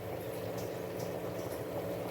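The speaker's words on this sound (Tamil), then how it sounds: "எல்லா வேலையும் முடிஞ்சு கொதிக்குது." Chicken curry simmering in a pot, a steady close bubbling boil with soft liquid gurgles throughout, no voices.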